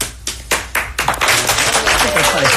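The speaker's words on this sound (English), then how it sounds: "Why did everybody clap when she say she's reprogrammed?" An audience clapping: a few sharp separate claps at first, then building into a dense burst of applause from a group nearby, loud and close.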